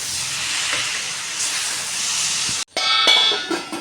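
Onion and garlic fry in a pan for a spinach and egg curry, a loud steady close sizzle and hiss that breaks off briefly and then comes back sharper with crackling.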